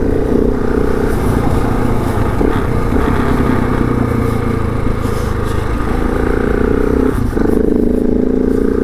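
A KTM 690 Enduro R motorcycle engine roars steadily in mud, with loud continuous revving and some clattering throughout, a brief dip near the end before the engine picks up again.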